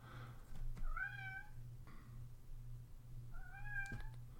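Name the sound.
cat meowing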